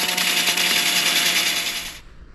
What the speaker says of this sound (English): using my drill and a modified grinder pad with some sandpaper on it